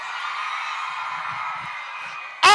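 A crowd of women screams at Rebel nightclub in Toronto, a sustained high-pitched roar that stays fairly even before a sudden loud burst at the very end.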